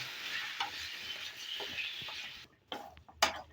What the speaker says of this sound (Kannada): ಇಲ್ಲಿ ಟೊಮೊಟೊ ಕಾಯಿನ ಇದರಲ್ಲಿ ಫ್ರೈ ಮಾಡ್ಕೊಳ್ಳೋಣ